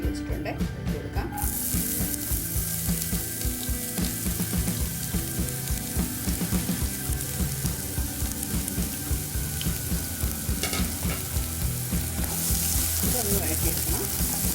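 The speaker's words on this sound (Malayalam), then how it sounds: "നമുക്കിതിൽ ഒരു സവാള ഞാൻ ചെറുതായിട്ട് കട്ട് ചെയ്ത് വെച്ചിട്ടുണ്ട്, ഇട്ട് കൊടുക്കാം." Finely chopped onion fries in hot coconut oil for a tuna stir-fry, producing a dense, steady sizzle close by, with a person talking intermittently over the crackle.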